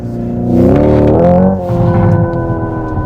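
A Hyundai Ioniq 5 N, a 2.2-tonne electric car, gives a loud, close engine-like roar that rises and falls while driving, then settles into a lower, rumbling tone with crackling exhaust-style pops.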